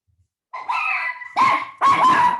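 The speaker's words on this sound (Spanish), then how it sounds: "Se me volvieron locas las perras." Female dogs bark excitedly nearby, three loud bursts of barks and yips with whimpering tones, each following the next after a brief pause.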